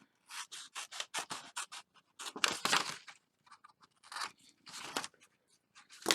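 Scissors cut through paper in quick, close snips, with several rapid runs of cuts separated by short pauses.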